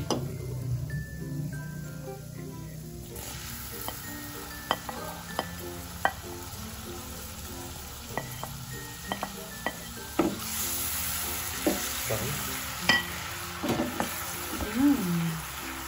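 Garlic sautéing in a pan for garlic butter mud crabs, a steady close sizzle with scattered clinks and scrapes of stirring against the pan throughout.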